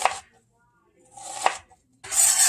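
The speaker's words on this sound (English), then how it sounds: "very, very finely dice this" A knife cuts through half an onion on a board in a few brief, separated strokes, each a short crisp scrape-and-tap with quiet gaps between.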